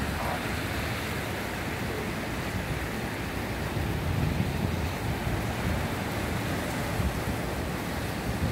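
Heavy surf from an unusual south swell breaking near shore, a steady broadband roar of crashing water with gusts of wind buffeting the microphone and slight swells in loudness as bigger waves land.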